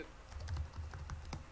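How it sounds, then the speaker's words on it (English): Computer keyboard keys clatter in a quick, close burst of typing, fairly quiet, entering an email address. "type your email address"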